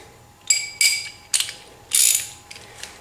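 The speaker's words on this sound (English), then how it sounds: "we can use our ratchet" A ratchet tightens the lug nuts holding wheel spacers on a Tesla Model 3, giving several short, close bursts of crisp metallic clicking separated by brief pauses, with no talking.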